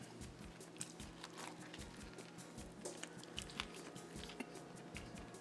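Quiet, close chewing and biting on a steak sandwich with rosemary and garlic aioli, soft repeated squishy bites and crunches at an irregular pace.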